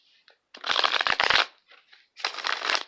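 Two quick bursts of tarot cards being riffled and shuffled, crisp and close, separated by a brief pause with light handling noise.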